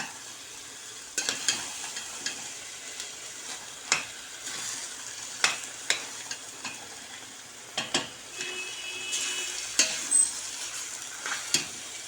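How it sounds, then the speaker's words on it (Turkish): Village lentils are stirred and fried in a pan, giving a steady low sizzle with repeated soft scraping strokes of a spoon roughly every second, close and alone with no talking. "bir güzel mercimeğinle de kavuracağım arkadaşlar"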